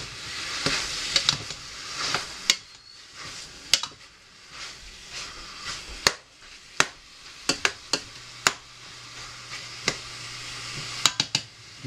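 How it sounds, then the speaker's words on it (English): Meat browning in a home-kitchen pot, a steady sizzle and hiss with intermittent sharp clicks and scrapes of stirring against the pot, close and moderately loud with no talking. "So I'm just going to go ahead and put the rest of the meat in."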